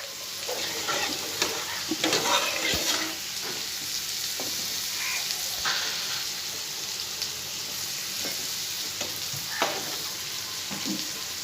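Vegetables fry in a pan in a home kitchen beside a covered curry, a steady sizzle running throughout with occasional stirring clatters, close and moderately loud, with no voices.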